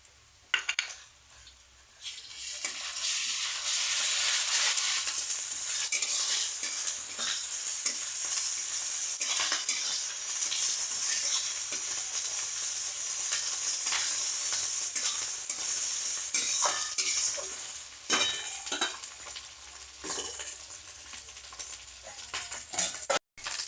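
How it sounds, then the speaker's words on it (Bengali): Garlic and ginger pastes fry with browned onions, giving a loud, hissing sizzle that runs nearly unbroken. A spatula scrapes and stirs, with occasional clinks against the pan, and there is no talking. "পেঁয়াজগুলো ভাজা আমার হয়ে গেছে, এবারে রসুন বাটা এবং আদা বাটাটা আমি দিয়ে দেবো।"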